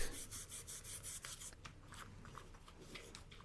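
Deep scratches on a watch being sanded with 400-grit sandpaper, giving a close, steady rasping rub in quick repeated strokes, strongest at the start and then settling into softer, faint scraping.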